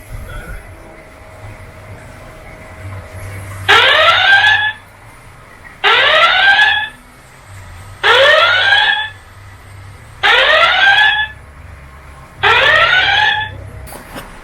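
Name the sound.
security camera alarm siren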